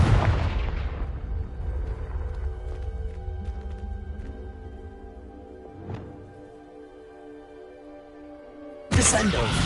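Confringo fire spell explosions in the video game Hogwarts Legacy: a loud, broadband fiery burst opens, a sharper crack lands midway over a steady tonal game backdrop, and another burst erupts just before the end.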